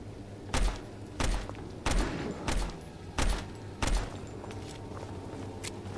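A full magazine fired in a Filipino horror video game, six loud evenly spaced gunshots about half a second apart, each a sharp crack over a quiet hum, with no talking.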